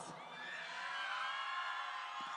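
A concert crowd on the left side of the venue cheers and whoops loudly in a sustained roar, with high shouts rising over the mass of voices and no speech over it.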